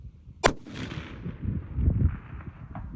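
A single sharp rifle shot cracks at an outdoor shooting range, loud and close, followed by a rolling boom that echoes and fades over the next few seconds.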